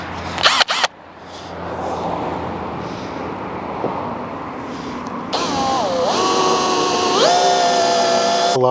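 A power drill whines steadily as it drills through a lawn tractor mower deck, its motor pitch dipping and rising as the speed changes, over a broad rushing background noise.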